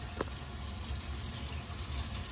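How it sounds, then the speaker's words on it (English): Tap water runs steadily into a kitchen sink fitted with a newly installed garbage disposal, a constant close hiss with a brief knock near the start. "We're going to run some water here and let's test our drain connections"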